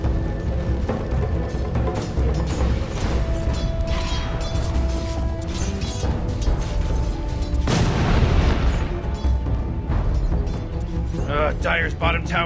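Dota 2 tower destruction in an All Random match: dense, loud game audio with booms and crashing impacts, a heavier burst near eight seconds, under a continuous music and effects bed with announcer-style voices.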